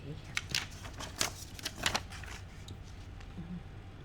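A Parker IM ballpoint pen with a medium 0.7 blue refill scratches across paper in a few quick, close strokes, with soft background noise between them.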